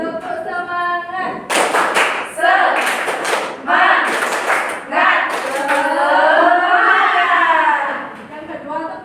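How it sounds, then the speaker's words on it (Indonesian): Classroom of children standing together to perform the rhythmic tepuk semangat spirit clap, sharp bursts of hand claps in patterned groups alternating with a teacher's voice and group chanting. "Yang pertama tepuk semangat."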